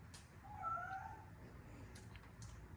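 A cat meows softly in a garage while transmission fluid is changed on a 2017-2019 Hyundai Elantra; one faint, drawn-out call rises over low background hum.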